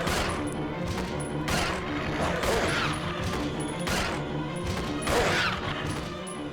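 Rapid gunfire in a video game, a dense run of shots with sharp repeated bursts about every second over a steady loud background of game sound and music.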